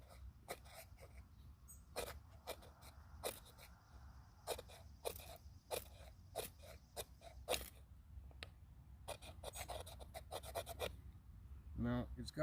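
Knife spine scraping along the rod of a Coleman magnesium fire starter, a series of short sharp rasping strokes repeated irregularly and close to the mic, with faint breathing between them.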